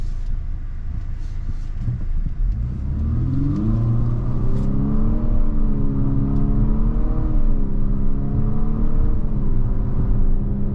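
A 2023 Infiniti QX50 Sport AWD with a CVT accelerates hard with paddle-shifted steps, its engine drone rising in pitch, dropping at each shift and climbing again, loud and close, with no talking over it.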